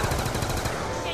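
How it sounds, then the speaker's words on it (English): Rapid pistol fire in the Black Ops 2 Zombies video game, a quick, steady burst of repeated shots across a brief moment, loud and continuous. "And I'm using the primary pistol."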